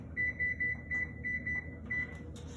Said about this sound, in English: I'm gonna set my timer so I don't forget to take it out.